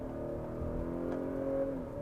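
A 2022 Acura RDX A-Spec accelerates at full throttle, its engine note holding a steady, rising drone from inside the cabin, loud and continuous with no talking.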